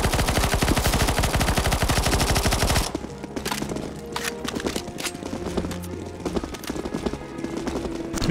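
Rapid automatic gunfire in CS:GO Zombie Escape, a dense continuous burst at first, then scattered loud shots and crackling bursts against ongoing game noise.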